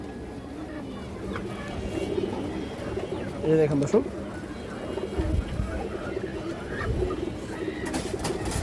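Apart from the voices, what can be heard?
pigeon cooing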